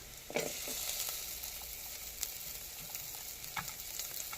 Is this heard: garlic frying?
yes